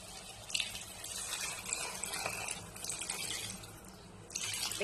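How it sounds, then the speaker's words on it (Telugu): About two cups of water poured into a pot of red lentils for dal, heard as quiet, intermittent splashing gushes with soft trickles between them. "Two cups water."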